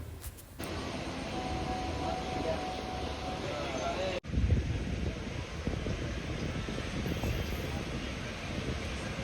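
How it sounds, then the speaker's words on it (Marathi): The Virar–Gholvad express train rolls out of Dahanu Road station after a short stop, a steady rumble and rattle of wheels with wind rush heard from inside. A sharp clunk breaks in partway through. "2 ते 5 मिनटं थांबून ट्रेन आता लगेचच सुटली आहे इथून"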